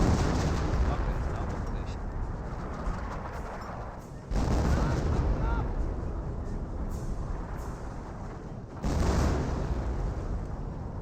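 Artillery barrage in the strategy game Company of Heroes, a dense continuous roar of distant explosions and gunfire rumbling in waves, with a sharper surge every few seconds, heard beneath a commentator's talk.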